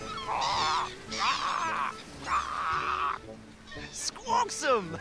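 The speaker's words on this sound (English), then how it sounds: "Listen to those sounds of the seagulls!" Seagull squawks in a children's beach show come as loud, repeated honking calls in distinct bursts, close up, with a voice speaking near the end.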